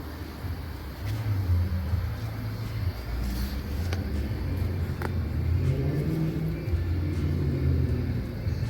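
A car with a noisy timing chain, its oil unchanged for 30,000 miles, rumbles through a test drive, the engine droning and rising in pitch as it accelerates, steady and close with no voices.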